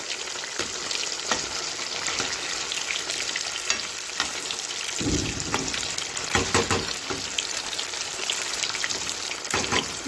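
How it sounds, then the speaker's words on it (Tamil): Fish frying in a pan over a medium flame, a steady close sizzle and crackle of hot oil that continues without a break, with a few brief bursts of louder spitting. "ஸ்டவ்வை கொஞ்சம் மீடியம் தீ வச்சு நல்லா கொஞ்சம் நல்லா முருகலாக வேக வச்சு எடுத்துக்கலாம்"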